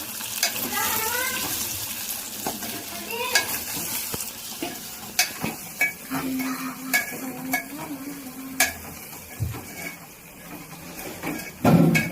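Gokarikaya curry is stirred in a pan with repeated scraping strokes of a ladle over a faint sizzle, punctuated by metallic knocks, and a voice speaks briefly at the start.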